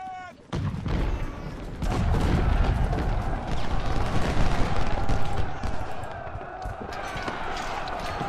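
Booming artillery and gunfire crackle through a Civil War strategy video game at the Battle of Thoroughfare Gap, dense overlapping shots and rumble building after a quiet start and continuing loudly throughout.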